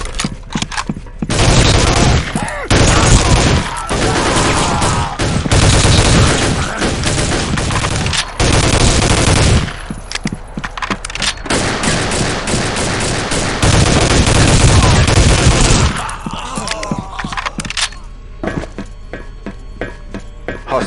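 Gunfire from the PC shooter Soldier of Fortune 2: Double Helix, dense loud bursts of automatic weapon fire and rapid shots in long volleys separated by brief pauses, with a sparser spatter of shots toward the end.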